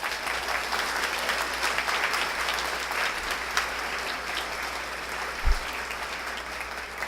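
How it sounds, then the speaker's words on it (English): Audience at a school dedication and open house for a fine arts academy applauds the students, a steady wash of clapping from a sizeable crowd lasting several seconds with a low hum beneath. "Let's give the students a round of applause."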